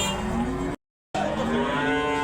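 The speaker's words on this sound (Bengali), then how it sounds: "একটি গাই গরু বাছুর সহকারে আসতেছে" A cow brought with her calf to a livestock market bellows in loud, close, drawn-out moos, with a brief gap between calls.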